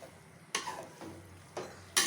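Spaghetti being stirred and mixed in a pan, heard as four scraping, sizzling strokes spaced about half a second apart, close and fairly loud over a steady low background.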